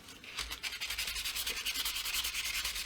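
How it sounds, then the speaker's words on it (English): A guitar neck being hand-sanded with 360 wet and dry sandpaper: close, rapid, rhythmic back-and-forth rasping strokes, steady and alone. "I'm just sanding and I'm trying to stop on the line that I've drawn"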